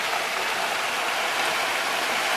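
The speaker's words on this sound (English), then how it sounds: "the rain managed to hit the camera lens" Heavy rain pours during Hurricane Irma in September 2017, a loud, unbroken hiss of water that may include drops striking the camera lens, with no voices over it.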